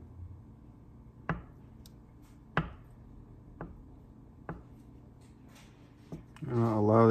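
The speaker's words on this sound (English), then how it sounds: "I'm gonna break up the butter." Butter being broken up in a pan on the highest heat: a handful of separate clacks and taps of a utensil against the pan over a low steady hum, then a rising sizzle near the end.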